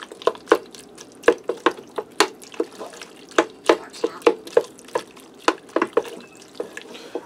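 A spoon stirs cheeseburger macaroni soup with ground beef in a pot, making a quick, irregular series of wet clinks and splashes. The sounds are close and moderately loud, with no talking.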